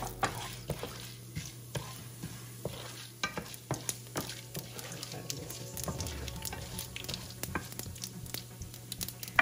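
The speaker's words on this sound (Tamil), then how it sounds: "ஒரு பேனில் நல்லெண்ணெய் ஊற்றிருக்கேன், காஞ்சிருச்சு. இதில் கடுகு, உளுத்தம்பருப்பு சேர்த்துக்கோங்க." Mustard seeds and urad dal fry in hot sesame oil in a pan, giving a steady low sizzle dotted with sharp pops and crackles and the scrape of stirring throughout.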